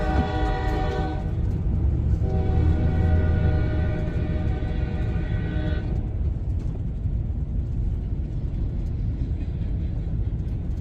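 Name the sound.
train passing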